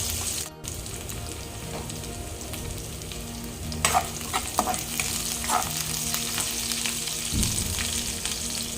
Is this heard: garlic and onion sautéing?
yes